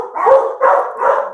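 Three dog barks in quick succession, each a full, mid-pitched bow-wow, close and fairly loud with nothing else heard.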